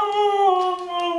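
A dog howls in a long, steady, voice-like tone, as if trying to talk, with stacked harmonics held for the whole stretch and slight wavering pitch, close and loud, with no one speaking over it.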